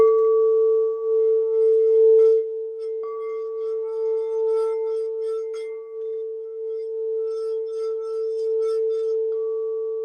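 An 8-inch crystal singing bowl struck with a silicone-covered glass striker rings out a loud, pure sustained tone, with a couple of fresh strikes renewing the hum over faint background clinks.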